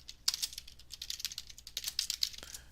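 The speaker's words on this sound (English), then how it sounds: "I'm really bad at typing." Rapid keyboard typing on a computer during a magic livestream, a steady run of close, crisp key clicks with no talking.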